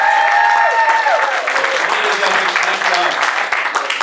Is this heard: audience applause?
yes